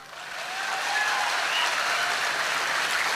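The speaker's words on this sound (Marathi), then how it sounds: "जोरदार टाळ्या होत एकदा।" Loud, dense audience applause at a Marathi motivational talk, swelling within the first second and then holding steady as a continuous wash of clapping with no speech over it.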